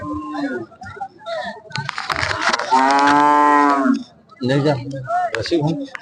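A cow gives a long, loud moo close by at a cow and buffalo market in Sindhanur, Karnataka, with people chattering before and after it.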